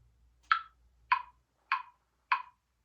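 Four sharp, evenly spaced clicks of a metronome at a steady 100 beats per minute, close and clear with silence between ticks.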